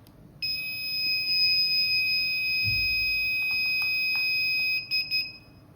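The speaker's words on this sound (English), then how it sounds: "If successful, the buzzer beeps twice and the LED for that sensor will turn on." A control board receiver's buzzer sounds a steady, high electronic tone continuously for several seconds, then breaks into a couple of short beeps before stopping, during sensor registration.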